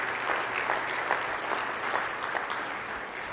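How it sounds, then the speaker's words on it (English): An audience at a political affairs and health policy forum gives a round of applause, a close, full burst of many people clapping that stays steady and loud throughout. "I'd like a collective round of applause for all the groups that have donated."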